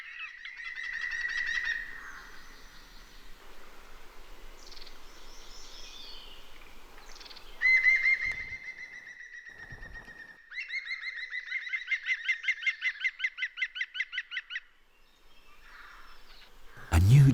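Young green woodpeckers call outdoors in a series of bright, high whistling notes and rapid repeated chattering phrases, with some pauses between them, fairly faint and close.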